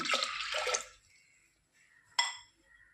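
Water pours into a pressure cooker in a short splashing burst, then falls quiet before a brief second splash and a few faint drips.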